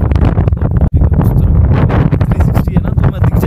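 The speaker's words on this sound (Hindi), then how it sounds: "पता नहीं आवाज़ सही आ रही होगी कि नहीं, क्योंकि हवा चल रही है बहुत तेज।" Strong wind buffets the microphone on a mountain trek above Kheerganga, a loud, continuous roaring rumble with constant gusty rustle throughout.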